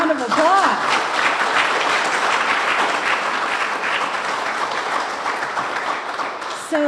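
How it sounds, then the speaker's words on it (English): An audience applauds students at a Martin Luther King Jr. oratorical competition. A dense, sustained round of clapping swells near the start, then fades gradually, and a voice speaks briefly at the beginning and again at the end. "Let's give all of our students a round of applause."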